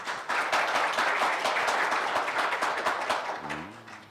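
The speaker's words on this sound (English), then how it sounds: "So let's give a round of applause for our panelists." A conference audience claps for a cloud computing panel in a steady, dense round of applause that fades out near the end as a voice begins.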